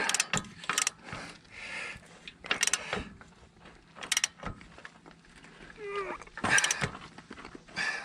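A hand ratchet tightens a bolt on a Rough Country 3-inch suspension lift fitted to a Dodge Ram 2500/3500, with several close bursts of rapid clicking separated by short pauses.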